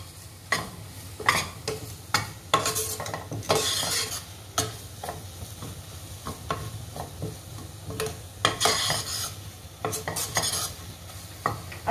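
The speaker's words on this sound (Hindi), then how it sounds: "इन सभी मसालों को अच्छी तरह से भून लीजिए।" Grated ginger and spices roasting in a pan for jackfruit sabzi, a steady low sizzle under repeated loud spoon scrapes and stirring knocks against the pan, continuous throughout with no voices.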